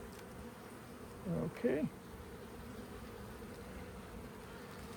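Honey bees hum in a low, even drone during a hive colony inspection, with a person briefly speaking over the buzzing.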